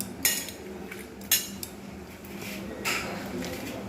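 A spoon mixes boiled potato into chickpea bhuna, with a few sharp clinks and knocks against the dish standing out over a quiet background.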